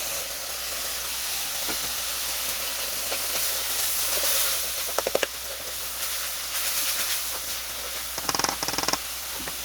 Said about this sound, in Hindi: टमाटरों के गलने तक हम इसे भूनेंगे।